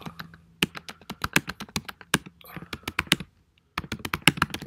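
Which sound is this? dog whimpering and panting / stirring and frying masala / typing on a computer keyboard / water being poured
typing on a computer keyboard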